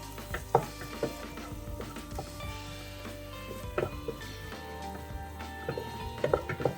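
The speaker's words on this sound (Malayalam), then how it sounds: "ഈ അരപ്പും കൂടി ചേർത്തിട്ട് നമുക്ക് നന്നായിട്ടൊന്ന് വഴറ്റി കൊടുക്കാം." Ground spice paste for mutton chops being sautéed in a pan, a quiet low sizzle with scattered clinks and scrapes of a spoon stirring against the pot.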